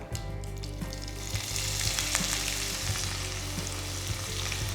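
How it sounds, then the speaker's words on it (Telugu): Mustard seeds crackle in hot oil for Khara Bath upma, a dense, steady sizzle scattered with sharp pops, close and fairly quiet, with no voices. "ఆవాలు చిటపడలాడుతున్నాయి కదా"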